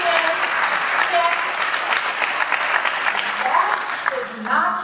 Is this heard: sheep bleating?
no